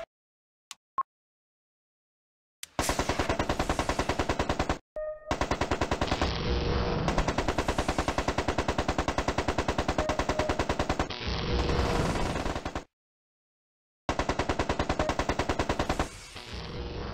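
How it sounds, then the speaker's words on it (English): Enemy gunfire in the MechCommander game: long bursts of rapid automatic fire, loud and close, broken by brief silences after a couple of isolated clicks at the start. "Link here, taking enemy fire."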